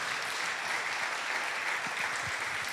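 A church congregation applauding God during a sermon, steady dense clapping from many hands at a moderate distance, with no speech over it.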